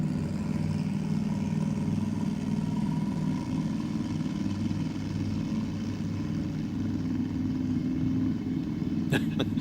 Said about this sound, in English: Getting on the burnout here.